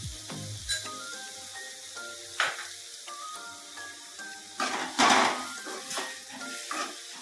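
Onions and green chillies fry in oil with turmeric for a drumstick cashew milk curry, a steady close sizzle broken by several clinks and scrapes of a spoon against the pan, with no talk.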